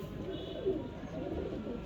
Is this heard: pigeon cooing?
yes